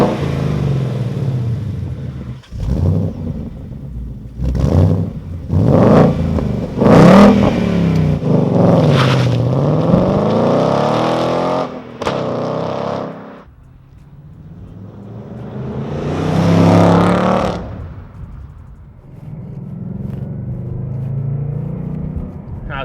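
A 2018-2023 Ford Mustang GT with a MagnaFlow Competition 3-inch axle-back exhaust drives on the road. Its engine rises and falls through several strong revving pulls, loud and close, with a quieter passage partway through.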